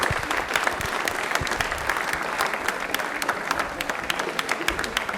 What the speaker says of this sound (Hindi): तालियां प्लीज एक बार इनके लिए जोरदार वाली हो जाए